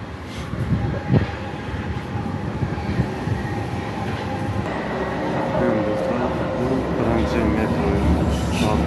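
Riding inside a moving metro train, with a continuous rumbling roar of wheels on rails, rhythmic clatter and occasional squeals building steadily; a voice speaks over the rolling noise.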